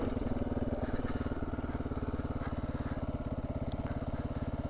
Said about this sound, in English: This bike is doing really good on this single track.